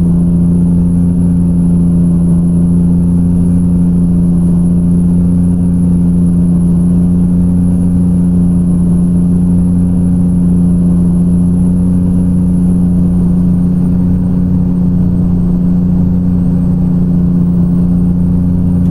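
A 525-horsepower Cummins N14 diesel truck engine from an engine mod in American Truck Simulator hums in a loud, steady low drone, holding an even pitch throughout with no voices.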